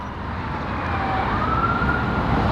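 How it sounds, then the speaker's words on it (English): An ambulance siren wails faintly in the distance outdoors near an abandoned motel, a thin rising tone over heavy wind and ambient rumble. "I hear them. That ain't no cop though. That's an ambulance."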